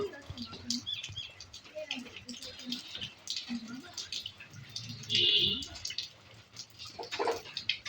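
A flock of mynas chirps and tweets in overlapping bursts at a village home, a busy flock calling at moderate distance, with some voices talking quietly in the background.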